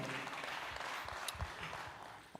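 Audience applause for panelists at a prison reform conference, a fairly quiet patter of clapping from a modest crowd that continues steadily for a couple of seconds.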